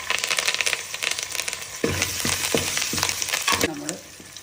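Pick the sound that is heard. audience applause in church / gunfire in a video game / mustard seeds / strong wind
mustard seeds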